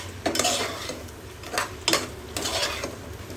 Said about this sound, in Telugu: ఒకసారి మంచిగా అన్నీ కలిసేలాగా కలిపేసుకుందాం